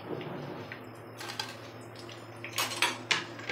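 Crispy fried bread and potato snacks are set onto a plate, producing light clinks and taps of utensil against dish, with a few sharper knocks near the end over a low background hum.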